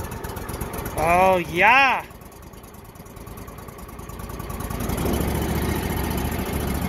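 A vehicle engine, run with the choke pulled, rumbles low and steady after a brief spoken exclamation, settling into a rough idle toward the end.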